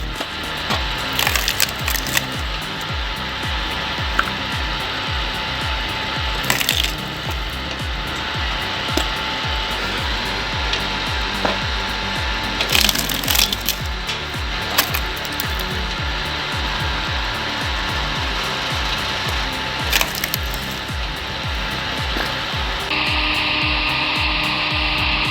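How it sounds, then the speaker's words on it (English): A large firewood processing machine saws through logs, a harsh, continuous grinding and rasping that holds steady for over twenty seconds with repeated rhythmic cuts and no talk. "This wood-cutting machine is intense, but its power is unmatched."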